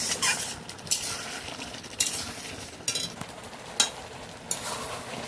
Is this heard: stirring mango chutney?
yes